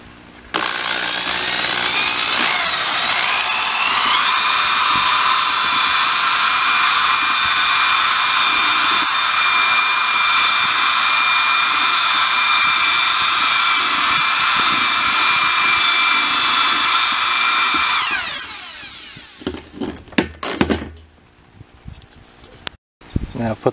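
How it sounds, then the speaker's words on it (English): Electric mixer stirring hydroponic nutrient concentrate in a tank of about 50 gallons, a loud, steady whirring drone that runs for some seconds, then winds down and stops, followed by scattered clatter. "I'm gonna give it a little bit of a head start with the mixer too"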